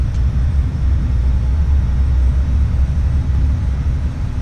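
An Embraer ERJ 145 jet in Flight Simulator X rolls down the runway on takeoff, a loud, steady low engine rumble with no talking over it.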